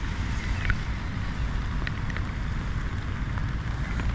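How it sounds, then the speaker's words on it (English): Early-morning rain falling on an Alpkit bivvy bag at a stealth camp, a steady close hiss of drops with a low, rumbling wash beneath and no talk. "it's 6 o'clock in the morning and it's raining."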